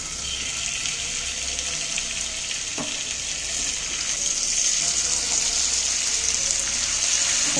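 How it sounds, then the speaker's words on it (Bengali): Marinated chicken pieces laid into a hot pan give a steady, loud, continuous sizzle that holds level throughout, with one faint knock partway through. "প্যানটাও গরম হয়ে গেছে, প্যানের মধ্যে মাংস আমি 1 পিস করে সাজিয়ে দিচ্ছি।"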